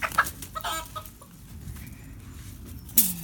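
A mixed backyard flock of chickens, including a Polish hen, clucks and squawks in short, scattered bursts at close range, with a sharper call near the end and no talk.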